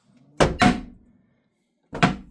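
A heavy door slams shut violently, giving a double bang with a brief boomy ring, then after a short pause a second hard thud, loud and close with no talking.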